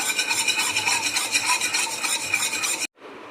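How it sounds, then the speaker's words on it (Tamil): A whisk beats a dates and nuts kheer mixture in a bowl, giving rapid rhythmic scraping and swishing strokes, close and loud, that stop abruptly near the end. "இப்போ விஸ்க்ல நல்லா மிக்ஸ் பண்ணிக்கலாம்"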